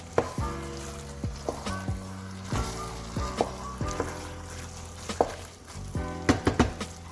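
Onions and chilies frying on a low flame in a pan, a steady sizzle broken by repeated clinks and scrapes of a utensil against the pan.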